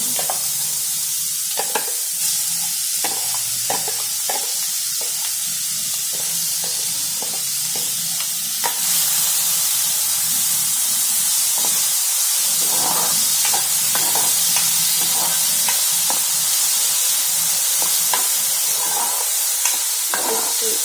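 Garlic and onion hiss and sizzle steadily in hot oil, with frequent scraping and clicking of a spoon stirring the pan throughout.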